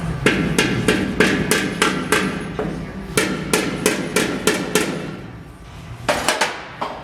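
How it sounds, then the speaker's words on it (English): A pick hammer bumps metal during custom metal shaping, tapping repeatedly in quick, regular bursts, sharp ringing clicks close by with a short pause before a final cluster. "with either a pick hammer"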